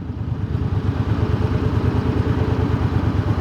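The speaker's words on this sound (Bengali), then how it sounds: "তো একটা বাইক যাচ্ছে সামনে" A Harley-Davidson motorcycle engine runs in stopped traffic just ahead, a loud, close, steady low pulsing throb without talk.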